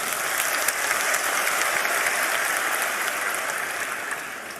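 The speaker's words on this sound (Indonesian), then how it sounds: "Kita berikan tepuk tangan dulu." Steady, dense applause from a large audience in a university auditorium at a Muhammadiyah tabligh gathering, honouring the rector; sustained and evenly loud throughout with no voices.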